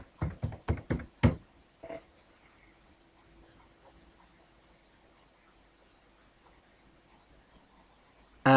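A computer keyboard is typed on to log in, with a quick burst of about six loud, close keystrokes at the start, one more tap shortly after, then near silence.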